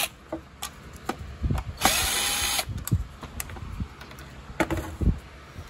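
Phillips screws come out of a Shark Navigator vacuum with short bursts of a powered screwdriver whirring, scattered clicks and plastic knocks, and one longer sustained whine, all close by.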